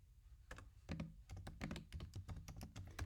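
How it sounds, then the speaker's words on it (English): Typing on a computer keyboard while entering a data table title, with rapid irregular key clicks close by and no talking. "I'm going to type the effect"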